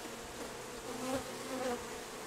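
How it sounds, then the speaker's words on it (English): Honey bees buzz around an open beehive during an inspection, a soft, steady drone with swells as individual bees pass near, heard alone without talk. "there's a bee coming out just up here"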